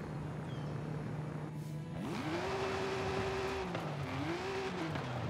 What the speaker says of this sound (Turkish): Hız, o vites atma sesi güzel.